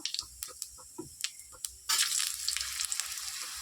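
Raw mango pieces are dropped into oil with frying cumin seeds, first as sharp spattering pops, then a sudden loud continuous sizzle that stays steady close by.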